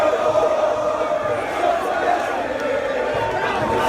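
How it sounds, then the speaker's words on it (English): A stadium crowd roars in Football Manager 2018 at Yankee Stadium during an MLS match, a dense steady wash of cheering and chanting voices, loud and sustained throughout. "Yankee Stadium in full voice"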